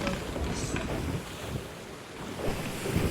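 Steady blustery wind over open water in the video game Sea of Thieves, with waves washing and surging underneath, a continuous roaring hiss that swells and eases slightly.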